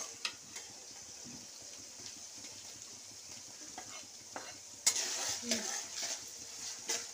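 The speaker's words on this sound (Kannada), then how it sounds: "ಟೊಮೊಟೊ ಅಷ್ಟೇ ಚೆನ್ನಾಗಿ ಬಾಡಿಸ್ಕೊಬೇಕು." Tomatoes sautéing in a pan for egg rice, a faint steady sizzle with soft scrapes and clinks of a spoon stirring against the pan, growing a little louder toward the end.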